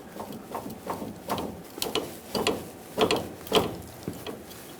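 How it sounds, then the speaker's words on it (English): Inner tie rod of a 2007-2014 Chevrolet Silverado 2500 HD being worked free with large pliers, a series of repeated metallic clicks and ratcheting knocks at a steady rhythm, close and clear with no talk. "give it a good push and it should pop free"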